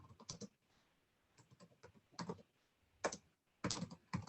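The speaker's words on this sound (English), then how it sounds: "I'm typing this in the document here and spelling it wrong again." Someone types into a document on a computer keyboard during a statistics class, quick clusters of crisp key clicks separated by short pauses, close but quiet.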